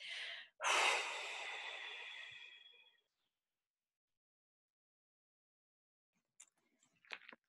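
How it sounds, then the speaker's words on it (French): A long, steady exhale during a sophrology relaxation exercise, one breathy rush of air lasting about two seconds after a short intake, followed by silence and a few faint small sounds. "Vous libérez, vous évacuez, vous soufflez."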